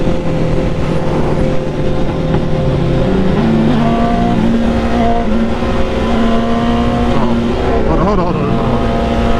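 Superbikes, a 2021 Honda CBR1000RR-R Fireblade SP, Kawasaki ZX10R, BMW S1000RR and Ducati, rev and race with loud engine whines climbing through gears, up close, as people talk over them.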